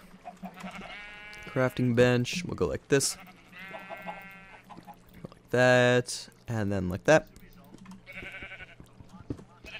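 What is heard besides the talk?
sheep bleating in a Minecraft modpack video game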